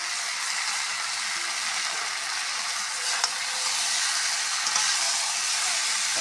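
A fish head sizzles in hot oil in a pan for a Bengali pumpkin and potato curry, giving a steady, bright, close hiss with faint pops and no talking.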